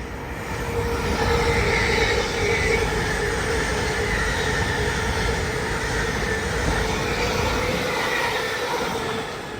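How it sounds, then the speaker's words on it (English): A Hull Trains Class 802 passenger service made of two coupled units runs past on the East Coast Main Line at Peterborough, giving a sustained, loud rushing roar of wheels and motors that swells and then slowly fades. "there's a Hull Trains Paragon service coming from Hull to London King's Cross"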